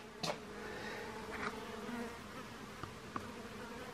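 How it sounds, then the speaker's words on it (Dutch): Many houseflies buzz inside a house, a faint continuous drone with a few brief sharp ticks, quiet and without any voices. "Maar dan kan je er niet zomaar ineens zo mega veel vliegen door in je huis hebben."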